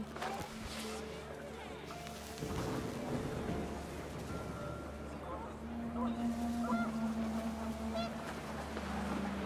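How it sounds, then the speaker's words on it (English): Wind and panicked geese in the game What Remains of Edith Finch, honking and squawking calls over a steady windy rumble, partly under a narrating voice. "The wind picked up, and panicked geese appeared and quickly went."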